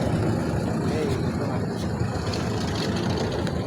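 A motorboat engine on the Jamuna river runs with a steady low rumbling drone, close and continuous, with faint water and wind noise mixed in.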